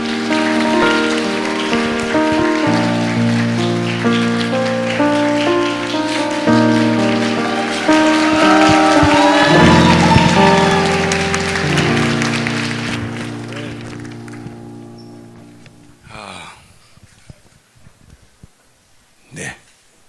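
Church conference audience applause welcoming a missionary speaker, a steady patter of clapping blended with loud music that fades out, leaving a few scattered final claps.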